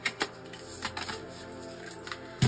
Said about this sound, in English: I'm going to actually shuffle this deck here